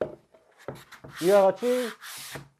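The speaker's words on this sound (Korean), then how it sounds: "반복해서 사포질을 하고요" Sandpaper wrapped around a flat board rubs a pine wood cutting board along the grain in three short, rasping strokes, with a person speaking just before and between them.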